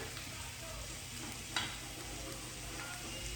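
Stuffed chicken breasts fry in avocado oil in a pan right after being flipped, giving a steady close sizzle and hiss throughout with one small clink partway through.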